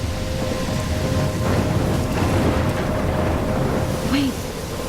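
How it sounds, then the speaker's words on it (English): Thunderstorm with steady heavy rain and rumbling thunder in the Life Is Strange video game, a dense continuous wash of rainfall that stays loud throughout. "I'm trapped in a storm?"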